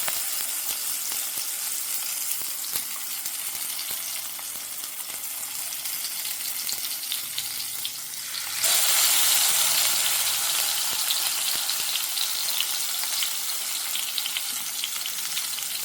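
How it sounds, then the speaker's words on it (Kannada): Masala-coated brinjal slices frying in plenty of oil on a tawa, a continuous dense sizzle that grows slightly louder partway through, with no talking. "ಮಸಾಲೆಯನ್ನು ಹಚ್ಕೊಂಡಿರುವಂಥ ಬದನೆಕಾಯಿಯನ್ನು ಇದರಲ್ಲಿಟ್ಟು ಬೇಯಿಸ್ಕೊಳ್ತೇನೆ"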